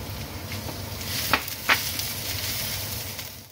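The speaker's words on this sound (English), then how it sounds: "So we're going to add the garlic now. We'll give that a minute" Garlic sizzles in a hot pan for a Keralan pork curry, a steady close frying hiss with a couple of brief stirring clicks, no voices.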